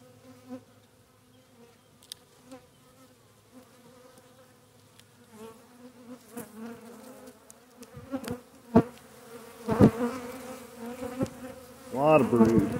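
Honeybees hum around an opened spring beehive full of pollen and brood, a low steady drone that swells louder and busier toward the end, with sharper bursts as insects pass close.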